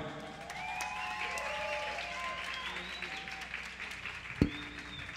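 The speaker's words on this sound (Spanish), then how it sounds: "Un aplauso para Esteban" Applause from a concert audience at a folk music festival, steady and moderately loud for several seconds with melodic tones and a single sharp knock near the end.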